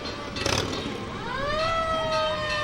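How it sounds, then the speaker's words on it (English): A 1967 Ward LaChance fire engine sounds its siren during a parade, a rising wail that climbs and holds over a broad din of engine and crowd noise, heard from moderate distance. "You can hear the siren"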